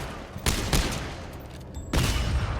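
Gunshots in the video game Dead Space ring out as a few loud, sharp blasts spaced apart, standing alone with no talking over them.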